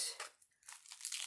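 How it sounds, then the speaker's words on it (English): Shrink wrap is peeled and torn off a package, giving close, loud crinkling and crunching plastic bursts with a brief lull partway through. "That sound is me removing shrink wrap from whatever this is."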